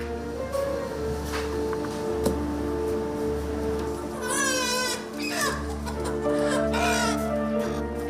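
Live chickens cluck and squawk close by at a poultry stall in a Kowloon City wet market in Hong Kong, with a rooster's crow and shrill calls rising over a constant low hum of market noise.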